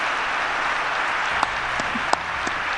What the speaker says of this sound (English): He's clapping for himself.